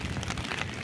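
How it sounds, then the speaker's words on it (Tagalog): Heavy rain falling in Hong Kong, a dense steady hiss and patter of drops on surfaces, continuous and fairly loud throughout the brief stretch with no voices. "maglalakad-lakad ka lang kahit malakas ng ulan."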